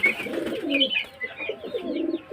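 Pigeons cooing steadily at close range, a pair of Matrash pigeons, male and female, kept by a seller in Beldanga, with several overlapping soft warbling coos and a few faint chirps throughout.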